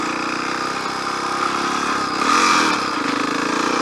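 A big motorcycle engine runs close and loud, holding a steady drone before swelling in a brief rev near the end.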